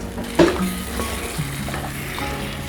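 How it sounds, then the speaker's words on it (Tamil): Masala ingredients for butter chicken sizzle and fry in a pan as they are sautéed, a loud continuous hiss with a brief clatter of stirring near the start. "இதையும் போட்டு நல்லா வதக்கிடுங்க. அந்த பச்சை வாடை போகிற அளவுக்கு வதக்கிடுங்க."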